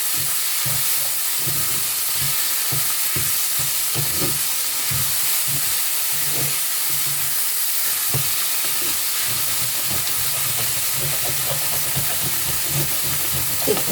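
Sweet filling stir-fried in a pan until dry, with a steady loud sizzle and hiss and repeated scraping and stirring strokes of a spatula against the pan, no talking.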